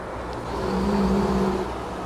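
U.S. Navy foam unit crash fire truck for the Vice President rolls past on a city street, a moderate engine drone and tire whir that swells and fades over a couple of seconds, with no voices.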